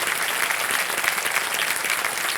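A studio audience on the Kaun Banega Crorepati game show breaks into steady, dense applause that holds evenly for the whole stretch with no talking.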